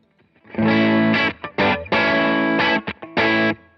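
Electric guitar on its bridge pickup run through a Mooer Tone Capture mini guitar-modelling pedal, playing loud, distorted chords in bursts with short gaps and a few quick muted stabs.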